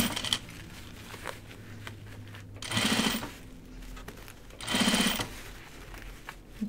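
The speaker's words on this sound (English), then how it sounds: "But once I start sewing, it gets easier and easier." A sewing machine stitches through the thick seams of a dopp kit, its motor running in two loud bursts of a few seconds each, separated by quieter handling noise and with no talking.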